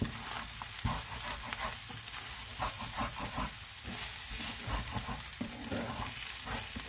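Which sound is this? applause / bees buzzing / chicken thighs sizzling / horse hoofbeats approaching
chicken thighs sizzling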